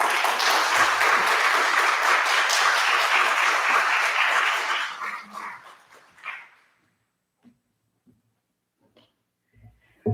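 Church congregation applauding to welcome a pastor, loud dense clapping for about five seconds that fades out into near silence with a few faint scattered sounds.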